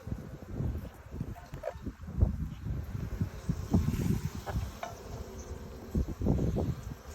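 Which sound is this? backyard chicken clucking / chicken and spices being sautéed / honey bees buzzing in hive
honey bees buzzing in hive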